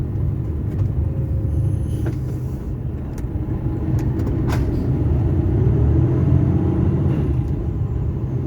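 A new truck's engine rumbles steadily while driving, a loud continuous low drone with faint rattles on top and no talking.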